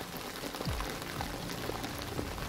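Steady rain pattering on surfaces fills the scene in the video game Detroit: Become Human, a continuous close hiss with scattered drips and no speech.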